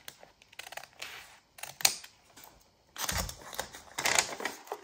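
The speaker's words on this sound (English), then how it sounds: "Let's first cut open this side of the envelope." Scissors snipping through a paper envelope at close range, crisp bursts of cutting and rustling separated by short pauses, louder paper handling in the second half, no speech.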